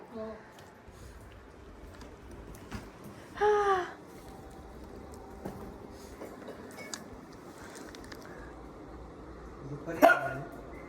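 A dog barks twice, a short burst early on and another near the end, over low background noise and faint voices.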